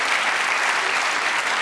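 A studio audience on a Dr. Phil talk show breaks into dense, sustained applause, loud and even throughout, standing-ovation style.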